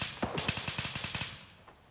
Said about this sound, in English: I can hear someone shooting.